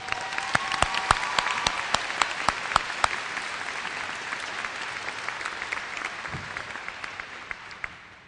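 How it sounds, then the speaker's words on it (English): Audience applause at a 2013 university convocation in Orillia: a large crowd clapping loudly with sharp individual claps, slowly fading toward the end. "So one more round of applause for these wonderful people."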